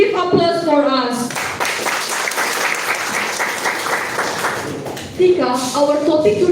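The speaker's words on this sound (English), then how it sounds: "Once more, give applause for us." A panel discussion class audience applauds, a dense, loud burst of clapping lasting several seconds between stretches of talking.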